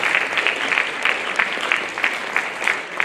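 A round of applause from an audience at an institute event, following a rendition of the Black National Anthem; dense clapping with rhythmic swells, close and fairly loud, with no talk over it.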